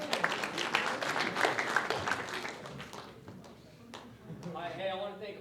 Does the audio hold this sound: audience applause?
yes